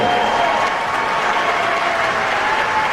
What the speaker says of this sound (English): Large round of applause there for Kellen Pickle